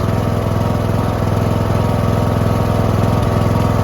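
A Toro Wheel Horse 1438HXL hydrostatic lawn tractor engine, repowered and fitted with a new stator, runs at a steady idle. It gives a continuous, even, close chugging drone with no talk over it.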